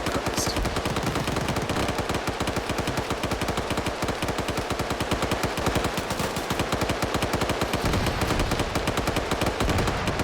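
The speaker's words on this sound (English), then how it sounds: "Explosive traps going off" Rapid, continuous gunfire and explosive bursts from a video game firefight, with explosive traps detonating amid a dense, loud barrage that runs without pause.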